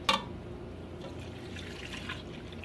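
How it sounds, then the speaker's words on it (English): Two cups of water poured into a container during a recipe, heard as a soft, steady liquid stream after a brief splashy start, fairly quiet and continuous with no talking. "And now I need to add 2 cups of water."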